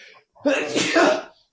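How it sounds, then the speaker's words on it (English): A single loud sneeze bursts out close by after a short intake of breath. "I'm going to sneeze"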